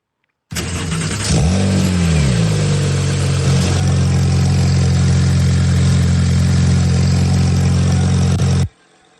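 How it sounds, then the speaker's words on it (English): A car engine cranks and catches, its revs sweeping up and settling into a steady, loud idle that runs on for several seconds before cutting off abruptly. "It should sound like a car starting up,"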